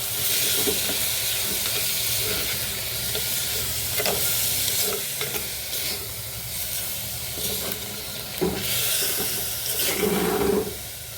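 Chopped banana stem sautéing in an oily pan for a kichadi, a loud continuous sizzle and hiss broken by scraping stirs of a spatula, close up, with no talking.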